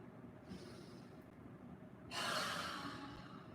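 A strong exhale pushed out through the mouth during yoga breathing, a breathy rush that swells in loudly near the end after quieter breathing, heard close and alone without talk.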